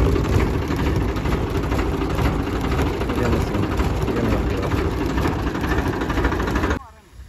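A tractor engine drives a PTO-powered farm machine in a Haryana village field, a loud, steady mechanical drone close by that cuts off abruptly near the end.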